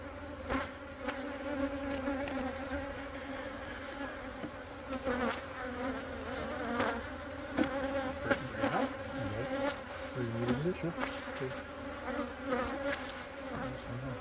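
Honey bees hum steadily around an open beehive during an inspection, a dense, continuous buzz with individual insects droning closer and farther throughout.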